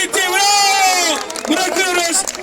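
Crowd cheering and whooping at the end of a longest börek eating contest at Bursa Gastrofest 2022, a loud burst of voices rising and then thinning out, with sustained shouts over a noisy outdoor crowd.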